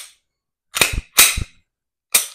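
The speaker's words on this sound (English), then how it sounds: "I'm able to dry fire each and every time when you drop the slide" A PSA Dagger full-size pistol with S frame being handled during dry firing, three sharp mechanical snaps of slide and trigger, loud and close against silence.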